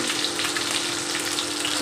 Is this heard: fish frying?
yes